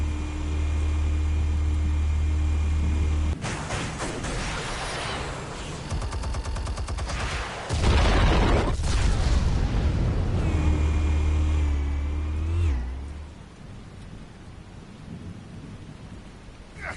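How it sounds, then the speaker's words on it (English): Explosives detonating in the Batman Telltale video game, with heavy rumbling booms that start abruptly, swell loud and rolling, then fade out into a quieter tail. "Explosives armed. Fire when ready."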